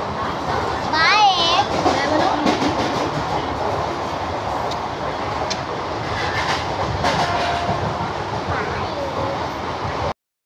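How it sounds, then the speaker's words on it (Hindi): A train stands at a railway platform in India, with a broad steady rumble of carriages and station noise throughout, a brief high squeal early on, and people talking nearby over it. "हम लोग की ट्रेन जो है वो लग चुकी है।"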